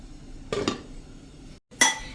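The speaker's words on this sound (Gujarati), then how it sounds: "અને હવે આને ઢાંકીને અને આપણે 2 થી 3 મિનિટ કૂક થવા દેશું." A metal lid clanks onto a pan of potato and fenugreek curry on the stove, a couple of close clinks followed by a brief silence and a final sharp clatter.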